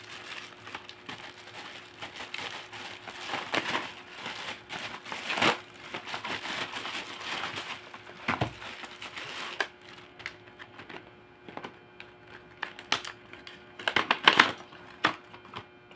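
Plastic-wrapped package shipped from mainland China being torn open, with dense crinkling and rustling of the wrapping close up, busy and continuous for most of the time, then sharper scattered crackles and rips toward the end.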